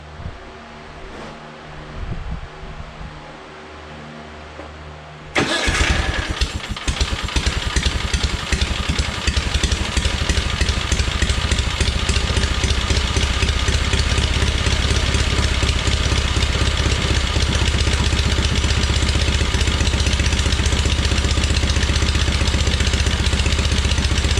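A John Deere 317 tractor engine, freshly primed, cranks and catches about five seconds in, then runs loud and steady at a close, rough idle for the rest of the time.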